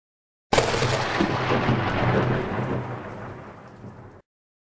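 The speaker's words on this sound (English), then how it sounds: "the cracking sound of lightning is heard much later than we actually observe the lightning" A single loud rumble of thunder breaks out suddenly and rolls on for several seconds, slowly fading.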